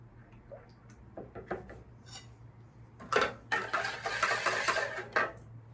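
Cookie pie batter is stirred in a bowl, beginning with a few light scattered clinks and taps and moving to a busier run of louder utensil scrapes and knocks against the bowl, close by with no talking.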